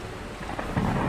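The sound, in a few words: thunder and rain during a storm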